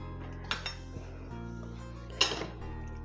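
A raw zucchini salad dressed with vinegar is mixed in a bowl, giving a few soft clinks and scrapes of a utensil against the dish, quiet and close, with no talking.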